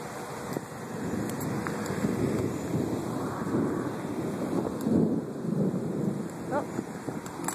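Thunderstorm in Tallahassee with a low, rolling rumble of thunder under a steady wash of rain and wind noise, fairly faint and continuous.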